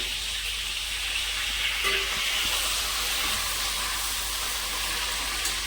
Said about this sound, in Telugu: ఇందులో మనం కొంచెం కరివేపాకు వేస్తున్నాం